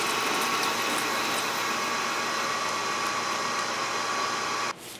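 A metal lathe runs through a cutting pass, a loud, steady whirring roar that holds evenly and then cuts off abruptly just before the end.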